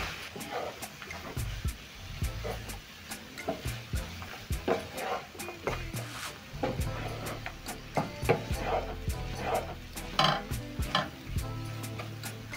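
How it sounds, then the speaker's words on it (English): Fries being stirred and tossed in tomato sauce in a pan over low flame: repeated scraping, clacking strokes of a utensil against the pan over a soft sizzle, close and fairly quiet. "Coat the chips or fries with the tomato sauce."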